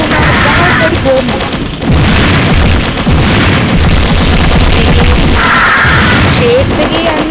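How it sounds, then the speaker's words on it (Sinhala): Explosions from small bombs in the mobile shooter game Mini Militia, a dense, loud run of booms and crashing blasts mixed with rapid gunfire, continuous and busy throughout. "ගහන පොඩි බෝම්බ"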